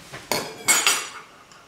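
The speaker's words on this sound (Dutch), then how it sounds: "Ik roer het nog even goed door elkaar heen." A spatula clinks and scrapes against a hot pan while pancake batter is stirred, a few short metallic knocks close by in a quiet room.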